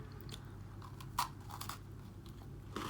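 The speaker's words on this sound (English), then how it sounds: "As with any Oreo treat, the first thing you get is a glorious crunch. Lovely and crispy" Biting into a crunchy gingerbread Oreo cookie, a quiet close sequence of small crisp cracks and crunches, with one sharper snap near the middle.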